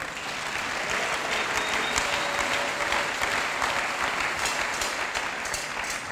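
A church congregation breaks into loud, sustained applause that fills the space evenly and without pause, a dense wash of clapping hands that holds steady throughout.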